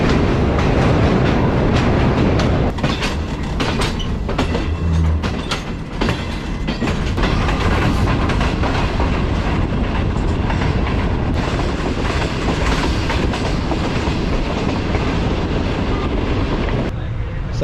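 The Shalimar Express runs on its rails from Karachi to Lahore, a loud, continuous rumble with rattling clatter from the carriages that lasts the whole stretch, heard from on board with no break.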